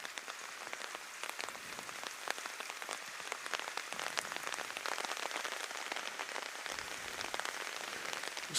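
Steady rain falling at an outdoor soccer match, a dense continuous patter of drops on surfaces with no talk, moderately loud and even throughout.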